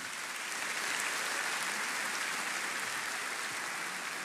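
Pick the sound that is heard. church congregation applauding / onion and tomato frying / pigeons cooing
church congregation applauding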